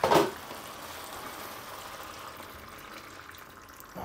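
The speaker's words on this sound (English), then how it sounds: "I'm just going to add some water to this." Water goes into a pot of goulash with a chicken stock cube already in it: a brief splashing pour at the start gives way to a steady, soft bubbling hiss from the pot.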